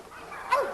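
A single short, sharp bark from a female pit dog in a kennel yard, near and fairly loud, cutting in suddenly after a moment of quiet.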